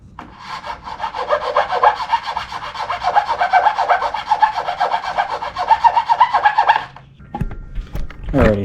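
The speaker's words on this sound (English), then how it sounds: "So we're going to go ahead and file this down a little bit." Steady back-and-forth rasping of a small square hand file working down the airbox of a 2024/25 Kawasaki Ninja ZX6R, close and continuous for several seconds before stopping with a few faint knocks.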